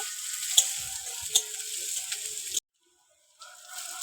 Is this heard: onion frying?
yes